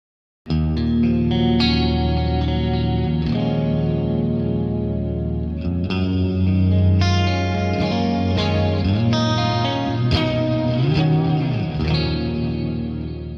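Clean-amp electric guitar playing chords and single notes with a spacious reverb and echoing delay tail, steady and fairly loud throughout, no voices.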